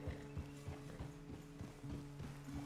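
A horse walks in Red Dead Redemption 2, its hooves clip-clopping in a steady, even rhythm, faint and distant, with a low constant hum beneath.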